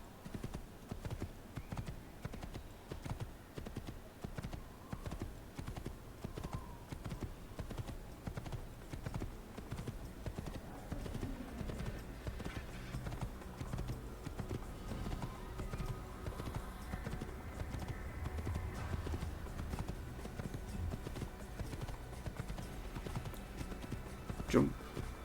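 Horse hooves clip-clop at a gallop in the Assassin's Creed video game, a steady rapid patter running throughout under game sounds and a talking player.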